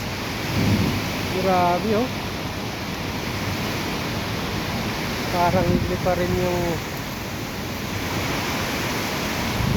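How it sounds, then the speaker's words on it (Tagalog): A strong windstorm with rain and thunder sweeps outdoors in a steady, loud roar of gusts and downpour, while someone talks over it in short bursts. "ang lakas ng hangin ngayon mga kabakero, at saka yung ulan"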